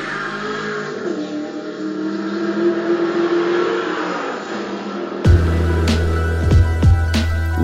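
1/32 scale slot cars race a tournament heat on a track, their electric motors giving a steady whine that swells into a louder, fuller roar near the end with sharp bursts, and no voices over it.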